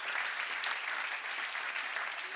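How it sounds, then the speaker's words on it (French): An audience at a closing address applauds steadily, with dense, even clapping throughout. "On peut l'applaudir."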